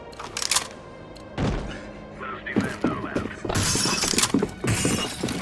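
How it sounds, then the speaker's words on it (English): A flashbang grenade goes off in Counter-Strike: Global Offensive as a sharp, loud shattering burst, followed by a ringing, noisy wash and further clanks and thuds. "Flashbang."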